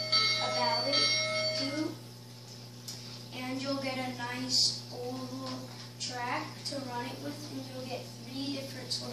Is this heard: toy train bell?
yes